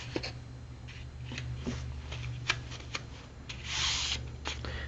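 Paper rubbed firmly down onto glue to form a hinge: a soft, steady scraping and rubbing with brief sharper strokes and a broader hiss near the end, close up and quiet, with no talk.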